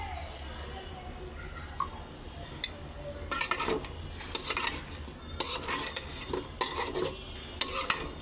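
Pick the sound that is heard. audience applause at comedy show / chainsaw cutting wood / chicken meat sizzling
chicken meat sizzling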